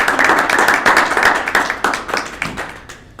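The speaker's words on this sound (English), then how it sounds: "One more round of applause" Small audience applauding Dr. McGrew after a lecture, close, loud clapping with individual hand claps audible, rhythmic and fairly uneven, thinning out toward the end.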